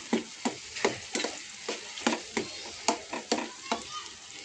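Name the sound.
frying ground masala with onion and tomato in oil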